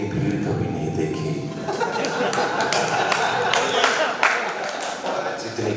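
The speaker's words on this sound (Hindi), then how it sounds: "जोरदार तालियों के साथ आवाज में अशोक चारण" An audience at a Hindi kavi sammelan poetry recital claps loudly, with a dense patter of applause and scattered laughter and chuckles, while someone speaks into the microphone over the noise.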